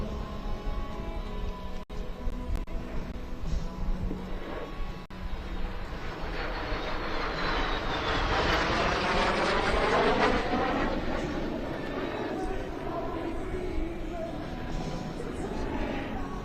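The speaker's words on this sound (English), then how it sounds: "an Allison J33 turbojet engine" A Lockheed T-33 jet trainer with an Allison J33 turbojet engine flies past at an air show, a loud steady jet roar that swells and sweeps in pitch as it passes, with crowd voices faintly underneath.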